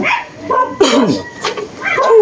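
A dog gives a few close, yelping barks and whines in quick succession, loud and near.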